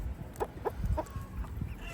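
Backyard chickens cluck softly as they gather for treats. Several short, close clucks are spaced irregularly over a faint outdoor background.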